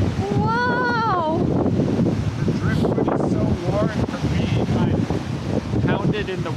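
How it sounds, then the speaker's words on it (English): Strong wind blows across an empty island beach, buffeting the microphone in a constant low rumble with surf mixed in, while excited voices whoop and exclaim over it. "the winds from the beach are kind of crazy"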